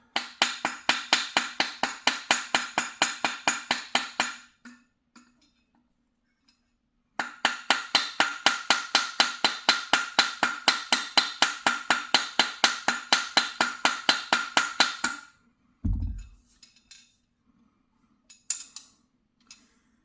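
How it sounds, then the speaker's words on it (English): Rapid, regular metallic hammer taps drive a gas block onto an Mk12 Mod 1 clone rifle barrel in two long bursts, evenly paced and close, separated by a pause, then a heavier thud and a few scattered knocks. "I actually think the other hammer is more effective."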